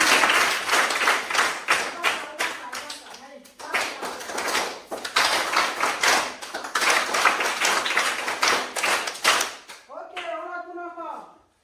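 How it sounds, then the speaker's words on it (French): A group claps in dense bursts for several seconds, pausing briefly, then a voice speaks briefly at the end. "Bravo! Bravo, applaudissements!"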